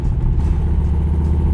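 A 1964 Corvette coupe, likely its original 365 horsepower V8, rumbling steadily through legal baffled side exhaust pipes, a deep, loud, continuous low burble close by with no voices.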